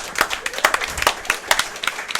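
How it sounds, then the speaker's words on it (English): A small audience claps for a podcast host, a short burst of scattered hand claps at a loose, uneven rhythm, fairly close and lively. "Let's get a round of applause for our host"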